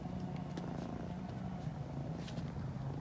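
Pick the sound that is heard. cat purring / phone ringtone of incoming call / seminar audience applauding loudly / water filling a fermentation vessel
cat purring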